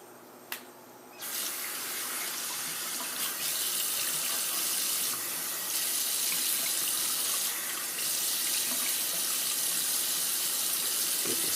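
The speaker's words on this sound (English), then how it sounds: "Gonna rinse off the soap here and put it aside." Tap water runs steadily into a sink as soap is rinsed off during a wet shave. The flow is continuous and moderately close, with no voices.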